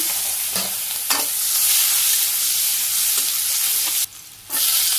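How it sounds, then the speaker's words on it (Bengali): Cumin seeds and chopped onion fry in hot oil, a close, dense hiss with occasional stirring scrapes and a brief dip near the end as the sizzling drops away. "তেলে আমি জিরা দিয়ে দিছি, পেঁয়াজ কুচি"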